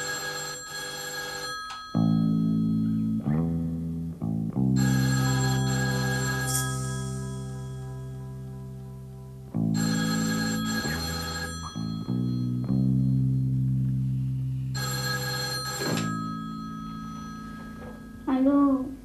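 A telephone rings in three separate bursts, each one a loud electronic trill layered over a steady musical background, with short gaps between the rings.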